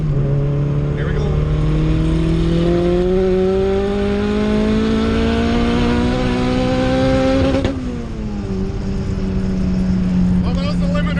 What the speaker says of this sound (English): Oh, that was the limiter in fourth.